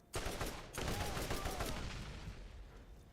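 Rapid bursts of gunfire in the video game Borderlands rattle out loudly, a short opening volley then a sustained fusillade of repeated shots with no pauses.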